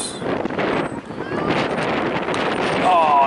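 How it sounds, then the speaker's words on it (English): Strong gusts of wind buffet the microphone at an outdoor softball game, a continuous rough roar with faint crowd and voice sounds beneath. "the wind is getting worse"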